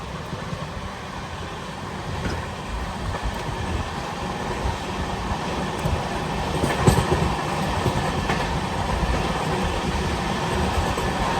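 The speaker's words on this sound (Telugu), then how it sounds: "మన బండి స్లో అవుతుంది." The Garib Rath Express passenger train rolls along and slows down, a loud continuous rumble with faint rhythmic clatter of wheels and occasional brief knocks, heard from inside the coach.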